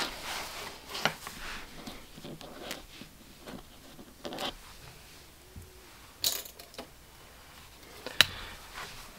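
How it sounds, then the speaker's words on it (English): Pins being pulled out of the fabric of a ruffle box zip pouch, faint scattered ticks, small metallic clicks and soft rustling of cloth up close in a quiet room. "Let's unpin it."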